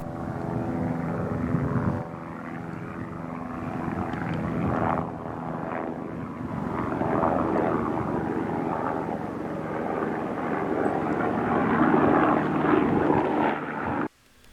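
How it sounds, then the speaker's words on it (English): Helicopter passing overhead during a Newfoundland moose hunt, a steady rotor and engine drone that swells and fades over about fourteen seconds before cutting off, with no talking. "a chopper flew over"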